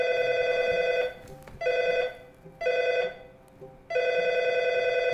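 An office telephone rings in repeated electronic bursts of about a second each, separated by short pauses, loud and close with a faint room hum underneath.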